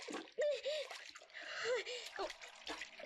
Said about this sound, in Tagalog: Nakakatakot ang ampas ng alon.